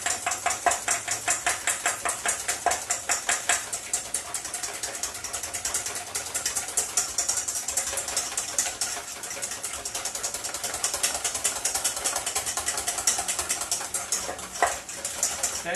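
Egg whites whisked by hand in a bowl, a steady rapid clatter of metal whisk against the bowl with rhythmic scraping strokes, close and continuous throughout.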